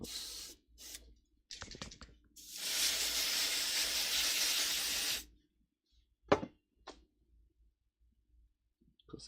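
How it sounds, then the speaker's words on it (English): Contact cleaner sprays onto an old Switchcraft guitar switch in one loud, steady hiss lasting a few seconds. Short clicks and handling noises come before and after it in otherwise quiet surroundings. "I will clean it with some contact cleaner"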